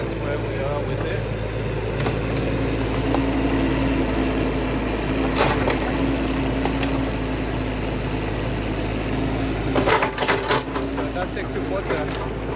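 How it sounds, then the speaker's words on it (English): A Kubota digger working in a garden during a lawn removal and landscaping job, its engine droning steadily throughout, with a few clanks and scrapes near the start and a louder burst of clatter around ten seconds in. "That's a Kubota digger that we're using"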